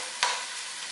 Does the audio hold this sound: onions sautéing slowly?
yes